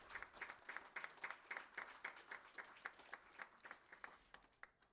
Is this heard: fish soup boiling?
no